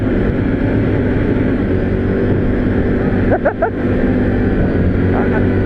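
A 2023 Can-Am Outlander 570 X-MR ATV on 28-inch ITP Mega Mayhem mud tires rides through snow, its engine droning steadily close up with a brief rev change midway.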